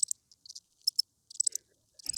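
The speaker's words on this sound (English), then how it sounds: "Crickets, right?" Short, high, bright cricket chirps come in small irregular clusters separated by silence, clean and isolated like a sound effect, with no voices.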